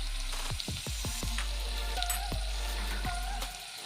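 Chopped banana stem sizzles steadily in a hot pan with turmeric, while a spatula scrapes and knocks against the metal in a quick run of strokes and then a few slower ones, close up with no talking.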